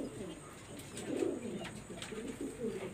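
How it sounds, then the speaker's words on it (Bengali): A single male Pakistani red pari pigeon coos in low, throaty bursts, several soft rolling calls close by over a faint steady background. "কবুতরটা অনেক ভালো মানের কবুতর"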